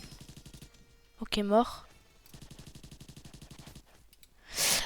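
Rapid heavy-weapon gunfire in a free video game, minigun bursts of dense rhythmic shots in two stretches, close and moderately loud, with someone briefly talking between them and a short noisy burst at the end.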